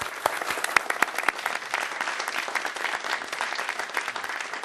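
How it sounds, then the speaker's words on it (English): An auditorium audience at a Curiosity rover briefing claps in sustained, dense applause for Ray Bradbury, steady and fairly loud throughout with sharp individual claps standing out. "I would like, before I start, to give a small hand of applause to Ray Bradbury."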